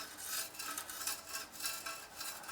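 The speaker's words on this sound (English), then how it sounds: "you can also maybe try scraping this a bit." A hand scraper works across paint on the blades of a Rover Mulcher Muncher, giving a steady, fairly quiet rasping scrape in repeated light strokes, close by with no talk.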